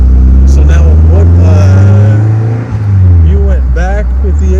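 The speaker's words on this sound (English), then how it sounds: "So this is the original race engine with the race SU carbs." The original race engine of a 1958 Triumph TR3, fitted with race SU carburettors, idles loudly and steadily close by at a national meet, its pitch dipping briefly before it steadies again, while someone talks over it.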